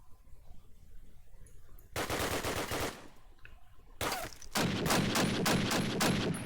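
Bursts of rifle spray gunfire ring out in a competitive first-person shooter match, one sustained burst followed by a pause, then a longer, louder volley of rapid shots, close and dominant.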